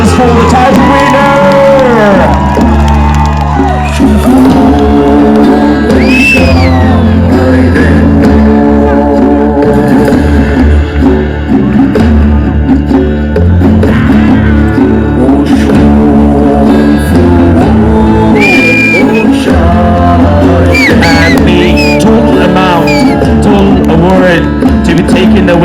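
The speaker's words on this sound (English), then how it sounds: "please give a big round of applause for the title winner" A large crowd at a Miss Spring pageant during the Shirui Lily Festival in Ukhrul cheers, whoops and shouts for the title winner, loud and sustained throughout, with music playing underneath.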